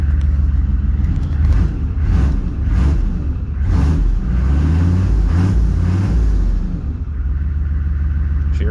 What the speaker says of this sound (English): she revs up pretty good.